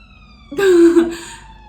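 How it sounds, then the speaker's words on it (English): A brief siren wail rises out of near silence, loud for a moment with a steady tone, then fades away. "sorry, there's a siren."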